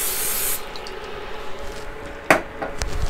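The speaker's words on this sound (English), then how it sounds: "I'm going to spray the inside of this really good." Cooking spray hisses from an aerosol can into the inside of a preheated Wonderffle waffle iron in a kitchen, one steady close spray lasting about half a second, followed by a few faint clinks and a sharp tap.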